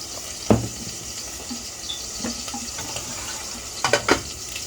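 Half a cup of water is poured into a cooking pot in a kitchen, heard as a few short splashing bursts and trickles over a quiet background, with no talking.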